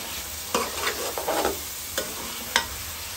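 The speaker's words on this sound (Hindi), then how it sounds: "अब इसे फ्राई करेंगे ऑयल में तकरीबन 1 से 2 मिनट तक।" Mutton liver (kaleji) frying in oil with ground coriander and garam masala, a close sizzle broken by several brisk spoon scrapes and stirs against the pan, with no one speaking.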